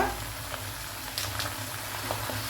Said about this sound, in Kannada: ಇದನ್ನೆಲ್ಲ ಫ್ರೈ ಮಾಡುವ ನಾವು.